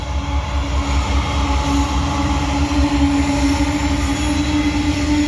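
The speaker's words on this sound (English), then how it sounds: "SCWS coal train." A long northbound coal train led by a GE locomotive rumbles steadily past nearby in Abbeville, heavy wheels grinding on rails with a faint metallic squeal running through.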